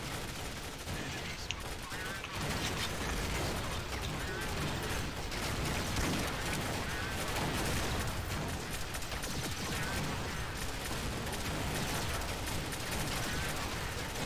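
Continuous gunfire in Counter-Strike: Source zombie mode, dense overlapping shots and automatic bursts forming a loud, busy wall of noise for the whole stretch.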